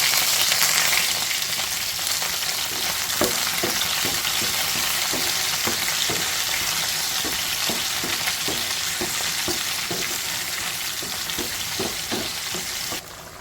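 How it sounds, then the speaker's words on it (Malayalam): Oil sizzles and crackles steadily as chopped shallots and curry leaves fry, with repeated soft scraping taps of a spoon stirring the pan. "ഇനി ഇതിലേക്ക് നമ്മൾ ചെറിയുള്ളി അരിഞ്ഞത് ചേർക്കണം കേട്ടോ എന്നിട്ട് കറിവേപ്പിലയും ഇട്ട് ജസ്റ്റ് ഒന്ന് മൂപ്പിച്ചെടുക്കണം"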